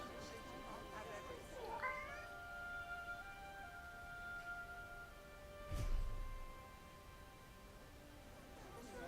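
Cat meowing in the video game Forspoken: a couple of soft, drawn-out meows sound early over quiet ambient game music, followed by a brief low thump, with no talking.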